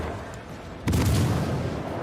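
Battleship naval guns fire HE shells in World of Warships Legends, heard as one sudden heavy boom over steady background rumble, with the blast rolling out and slowly fading.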